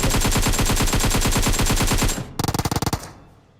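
Automatic gunfire from PUBG Mobile, a loud sustained burst of rapid, evenly spaced shots that stops abruptly and is followed by a shorter second volley, with no talking.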